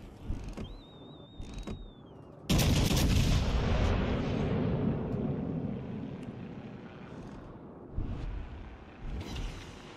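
Naval gunfire from a warship in a ranked battle video game: a heavy, sudden cannon blast lands at about two and a half seconds and rolls on into a long fading rumble, with smaller thuds before and after and no talk.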